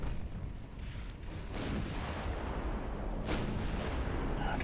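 Naval warfare video game artillery fire rumbles in a dense, continuous wash of booms and blasts, with a few sharper cracks standing out above the steady roar.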